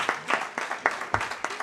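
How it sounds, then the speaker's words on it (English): A few hands clap in a quick, steady rhythm of distinct slaps at a public talk on social policy, a short burst with no voices over it. "Please clap for her."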